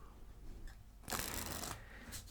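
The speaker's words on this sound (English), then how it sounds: "Let's give it some riffle shuffles" A deck of cards riffle shuffled close up, a quick fluttering burst of cards riffling together followed by a softer settling rustle.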